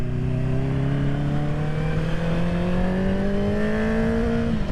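Engine of a 2021 Honda CB650R motorcycle while riding, a steady rising drone as it accelerates smoothly through one long pull, with continuous wind and road noise and no talk.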